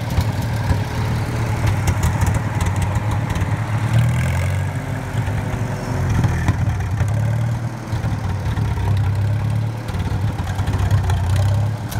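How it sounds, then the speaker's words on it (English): An old Super M tractor engine, due for a tune-up, idles steadily at close range with a low, uneven rumbling pulse that swells and dips over twelve seconds, alone with no talking. "This is the nicest old tractor."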